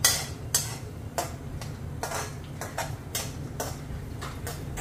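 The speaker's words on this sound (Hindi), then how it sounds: "हल्का सा भून लूंगी जिससे ये क्रंची हो जाए। लगभग 1 मिनट अल्टी पल्टी करना है" Dry fruits roasting and being flipped in a pan for mawa modak, a steady low sizzle under regular sharp scrapes and taps from the stirring, close and fairly quiet.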